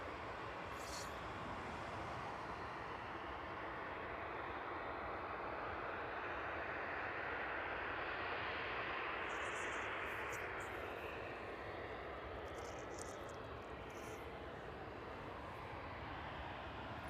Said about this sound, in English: So that DHL 767 in from JFK, turning on to final now for runway 27.